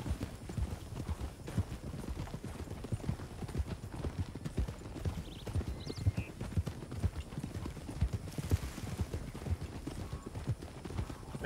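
Horse hooves clip-clopping at a steady pace in the Red Dead Redemption video game, a continuous rhythmic run of close, evenly loud hoofbeats lasting throughout, with no talk over it.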